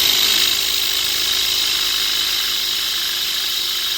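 An electric drill labours while boring into a gate lock, a strained, steady high whine holding for a few seconds close to the microphone, with no talking.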